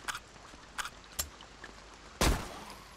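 Several sharp gunshots in the video game Zompiercer, a few light pops spaced apart followed by one loud, heavier blast that rings out briefly.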